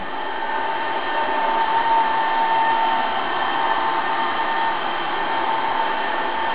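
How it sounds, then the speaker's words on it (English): A steady motor whir with a high, even hum runs continuously throughout as an A320 robot vacuum cleaner circles a table nearby, with no talking. "You can see the robot cleaner is turning around the table."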